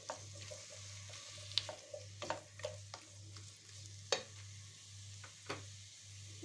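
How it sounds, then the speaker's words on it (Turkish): Prickly squash is stirred in a pan with onion and tomato paste, a soft steady sizzle under repeated light scrapes and taps of a utensil against the pan, close and fairly quiet with no talking. "Şöyle bir karıştırıyorum. Soğan ve salça ile karışmasını sağlıyorum dikenli kabakların."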